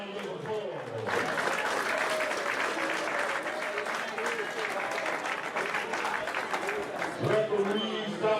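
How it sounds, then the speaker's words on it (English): Applause from the crowd at a heavyweight amateur boxing match, sustained clapping for several seconds under someone talking over the room. "Let's give these two boxers another round of applause."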